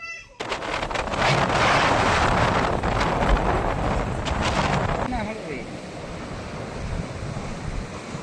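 Sea waves wash onto the shore near Bet Dwarka, a broad rushing surge that swells and then eases off, heavily buffeted by wind noise on the microphone.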